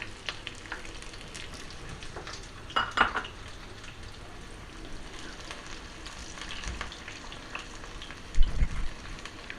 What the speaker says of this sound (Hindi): ऑयल हमने आधा कप ऑयल हमने लिया था, और ये एक बड़ा प्याज उसमें डाल रहे हैं